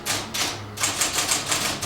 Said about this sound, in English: to the rhythm of a typewriter